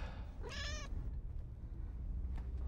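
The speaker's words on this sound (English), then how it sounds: "That meowing sounds like a feline to me." A single short, faint cat meow inside a taxi, heard once over steady low engine and road rumble.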